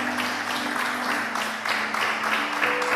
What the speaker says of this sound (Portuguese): essa merece aplausos para o Senhor